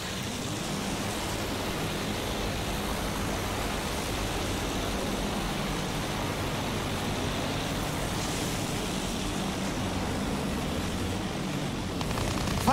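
An enemy aircraft flies overhead in the Battlefield 1 video game during a fighter dogfight, a steady, loud engine roar mixed with wind rush that holds unbroken throughout, with no voices.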